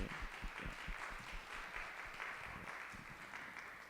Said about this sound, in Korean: 우리 같이 환영으로 박수해 주시겠습니다.